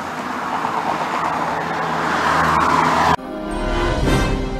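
Cars idle and move around a filling station in Venezuela. There is a continuous roadway rumble and engine noise with general traffic hiss, and an abrupt cut partway through leads into a slightly different street ambience.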